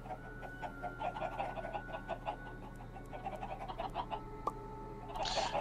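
Minecraft chickens cluck again and again in an irregular run of short notes, close and clear over a constant low drone, with a brief brighter burst at the very end.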